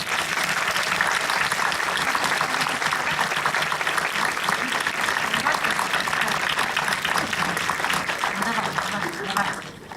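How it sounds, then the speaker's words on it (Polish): Sustained audience applause at the ALE KINO 2011 film festival for the boys behind the film, loud dense clapping lasting the full stretch, with a few voices mixed faintly underneath. "proszę o brawa dla chłopaków"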